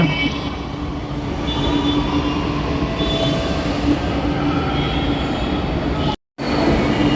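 A Chennai metro train runs along the track with a steady loud rumble, faint wheel squeal and brief clicking, heard up close and unbroken except for one short dropout near the end.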